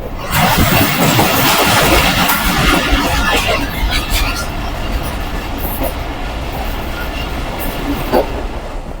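Pakistan Express passenger train running through the Sihala railway tunnel, a loud enclosed rumble and rattling wheel clatter heard from on board, strongest at first and then settling into a steady roar.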